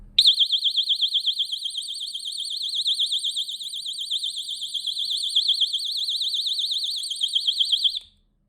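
A personal alarm wails after its pin is pulled, giving a piercing, high-pitched warbling siren that holds steady and very loud for about eight seconds before cutting off abruptly.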